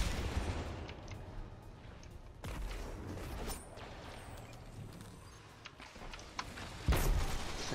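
Sniper rifle shots from the Whisper of the Worm in Destiny 2, heard as a couple of distinct sharp reports, one early and one near the end, over a faint, noisy battle background.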